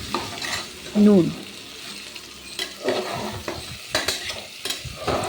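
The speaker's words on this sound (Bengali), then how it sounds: "আলু আর টমেটো আমি ভালো করে ভেজে নিচ্ছি" Potatoes and tomatoes fry in a pan while being stirred, giving a close sizzle with repeated scraping strokes. A voice speaks briefly over the cooking.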